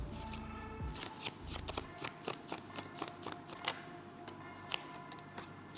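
Tarot cards shuffled by hand in a series of crisp riffling bursts and soft slaps, close and fairly quiet, with a low rumble early on.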